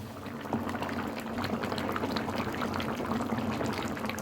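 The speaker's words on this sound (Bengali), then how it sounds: "কষানো হয়ে গেছে, এবার একটু জল দেবো।" Water poured into a pan of prawn curry as it cooks, giving a dense, close bubbling and churning of liquid that holds steady for a few seconds without speech.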